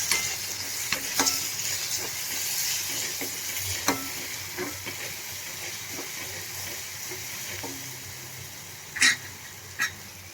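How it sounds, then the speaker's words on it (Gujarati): Spoon scraping and stirring spices through sizzling fenugreek greens in a pan, with steady frying crackle and a few sharper clinks and scrapes. "આમાં મસાલાને મિક્સ કરી લેશું"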